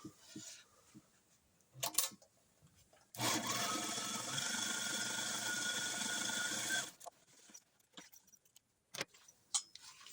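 A sewing machine stitches along the edge of a fabric pouch in one loud, steady whirring run of about four seconds, with quiet handling and fabric rustles before and after.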